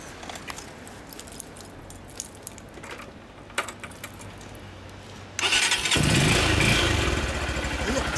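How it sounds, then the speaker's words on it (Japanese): A motorcycle engine cranks and catches after a few faint clicks, then idles loudly and steadily, close by. "こっちからエンジン音聞かせてくれる？"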